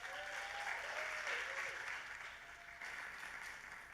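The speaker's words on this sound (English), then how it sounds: "Guys, give a round of applause." Steady audience applause for a startup presenter at a demo day in Puerto Rico, a dense wash of hand claps holding evenly for several seconds and easing slightly near the end.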